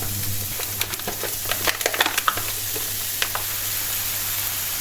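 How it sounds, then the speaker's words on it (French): Onion cooks in rendered sausage fat in a pan with a steady close sizzle, broken by brief crackles and pops in a busier middle stretch. Nobody talks. "Ça va me faire de la matière grasse pour cuire l'oignon."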